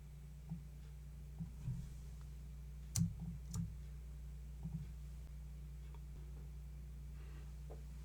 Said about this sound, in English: I'll double click on them